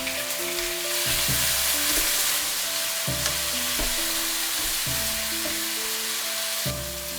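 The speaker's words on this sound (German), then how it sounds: "Tomatenstücke in die Pfanne geben." Tomato pieces fry in a hot pan for a Chinese vegetarian cauliflower dish: a loud, continuous close sizzle broken every second or two by sharp scraping stirs.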